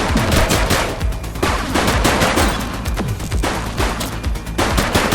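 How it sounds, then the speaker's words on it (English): Loud, dense gunfire during a police shootout in the video game The Precinct, rapid overlapping shots and bursts layered with impacts, continuous throughout with no clear speech. "Doesn't look like they're gonna give us a choice. Light them up! He's shooting!"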